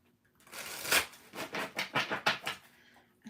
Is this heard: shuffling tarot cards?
yes